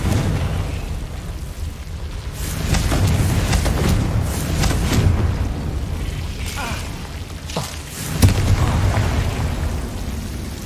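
A Confringo fire spell goes off in the Hogwarts Legacy game, a stretch of rumbling blasts and bursts over a constant loud low roar of game effects, with a sharper pop near the end.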